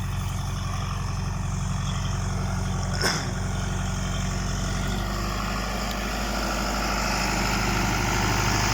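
A John Deere tractor engine driving a 55 kVA PTO generator idles steadily with a low, throbbing rumble, a brief clunk partway through, then the running note shifts slightly.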